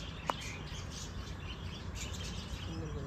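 Birds chirp softly in an aviary at a bird sanctuary, with one brief sharp call near the start over steady, faint background ambience.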